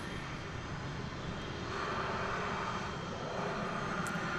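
Airliner on Flight 1884 to Santa Ana, California, sitting on a runway at DFW Airport, its engines a steady broadband roar that holds even and fairly loud throughout, with no voices.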